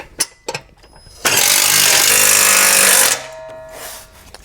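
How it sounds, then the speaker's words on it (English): A 9/16 wrench and socket turn bolts while assembling a Malone MicroSport overland tent trailer, with a few sharp clicks leading into a loud, steady two-second ratcheting burst that then stops abruptly. "Then you grab your 9/16 wrench and socket."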